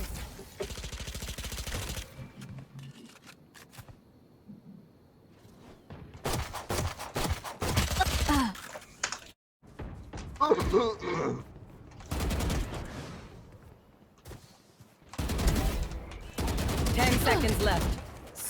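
Bursts of Phantom rifle fire from the Valorant video game, rapid automatic volleys arriving in several separate clusters, with talk and game announcer lines in between.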